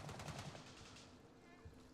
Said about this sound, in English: the gunshots coming from town, they definitely sound a lot more intense than I remember.